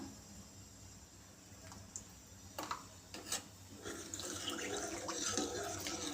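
Water pours into a pot of mango and moong dal pappu charu in a gentle stream, growing fuller and splashier toward the end, with a few scraping clinks of cookware.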